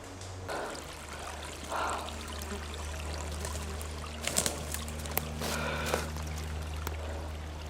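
A brook runs steadily along an old road route while someone wades through it, with continuous flowing and trickling water and a few louder splashes near the end.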